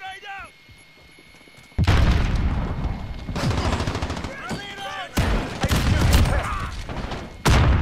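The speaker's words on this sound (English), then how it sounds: "Grenade out!" A grenade blast in the Call of Duty Modern Warfare multiplayer beta, a heavy booming explosion amid repeated loud bursts of gunfire, with voices calling out over the battle.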